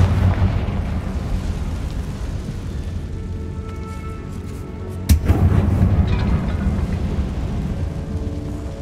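A Confringo spell explosion in the Hogwarts Legacy video game lands as one sharp blast over a constant rumbling game ambience, and the sound stays loud and thick for a while after the hit.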